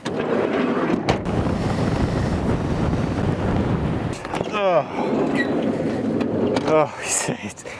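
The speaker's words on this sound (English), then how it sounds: "it's really windy and very cold" Strong, cold wind on an Iceland road trip buffets the microphone in a heavy, gusty roar. It eases and surges midway, and brief voice-like sounds come near the end.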